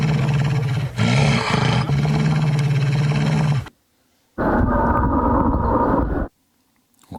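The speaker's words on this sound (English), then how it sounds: "So here is the wolf growl with the growl I experienced immediately after." A recorded wolf growl, a long rough roar with a brief dip, is followed after a short silence by a second, deeper growl heard on a forest trail, both loud and close, with no one talking.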